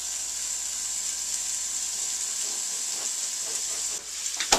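Ground meat for bacon cheeseburger nachos frying in a pan, a continuous close hissing sizzle with faint clicks of stirring near the end.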